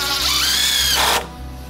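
A cordless power drill driving a screw into deck framing at a box beam, a close, loud rising motor whine that holds for about a second, then stops abruptly, leaving quiet room tone.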